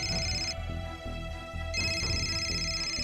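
A phone ringtone plays in a home, a loud, melodic electronic tune that repeats in short phrases with a brief dip partway through, clear and close with no talking over it.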